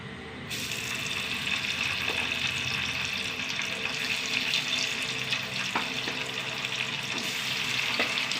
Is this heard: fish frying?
yes